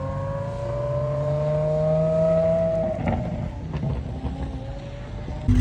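A Mercedes CLK GTR engine holds a loud, steady tone that slowly falls in pitch as the car moves away, then gives way to rougher, fainter road noise and a few sharp crackles.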